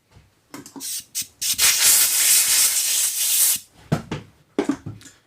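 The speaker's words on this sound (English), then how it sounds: "I will give it a blast of cleaner. A blast of air." Short blasts of carburetor cleaner and compressed air hiss through a Honda TRX400 ATV carburetor during a rebuild, with a few brief sprays and one long sustained burst up close.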